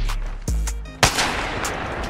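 Sniper shots in Apex Legends, two loud heavy cracks about half a second apart, each ringing with a short metallic tail over a quiet game background.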